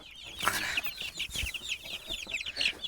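A flock of chicks and chickens at a poultry market clucks and peeps continuously, many high chirps overlapping with a few lower clucks, close and fairly loud with no talking.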